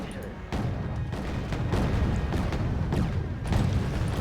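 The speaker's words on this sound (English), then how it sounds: "Missiles coming in from the Udaloy up there." Missiles fired from an Udaloy destroyer in the Wargame Red Dragon naval battle: a rapid series of loud booming launches and impacts, roughly every half second, forming a dense, rumbling barrage.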